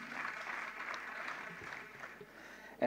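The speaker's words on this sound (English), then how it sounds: "So let's give them a big round of applause." An audience at a cybersecurity panel event applauds its speakers: a steady, fairly quiet patter of clapping from many hands, sustained evenly for a few seconds, heard from a distance in a hall.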